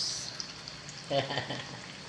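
Tofu (tokwa) frying in a pan for adobong kangkong, a soft continuous sizzle with a brief clatter of stirring midway, heard close and faint.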